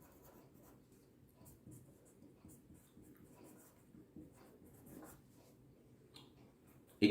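A pen or marker writes a math equation, producing faint, soft scratching strokes in short bursts, with a louder knock at the very end.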